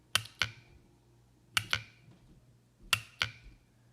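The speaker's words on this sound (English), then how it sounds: "That's the solenoid actuating." Starter solenoid on a vehicle clicks as a jump starter box applies 12 volts, giving three sharp double clicks spaced evenly and close up, alone with no talk.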